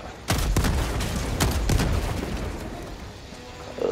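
Gunfire aimed at a rocket devastator in Helldivers 2: a dense, loud burst of rapid shots cracking continuously over a rumbling low roar, with several sharper reports standing out.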